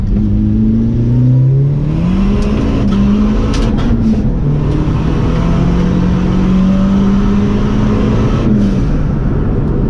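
A Fiat Uno Turbo ie accelerates hard on a bumpy road, its engine note climbing steadily and loudly through a gear change for about ten seconds, heard from inside the car with no talking.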